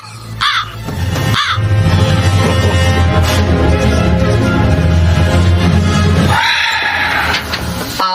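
Harsh, loud crow caws in a Filipino radio drama, a couple of quick calls followed by a long sustained drone of sound effect and another drawn-out caw at the end, close and dominant.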